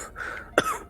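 A single short cough with a throat-clearing quality, near and close to the mic, preceded by a faint tonal murmur.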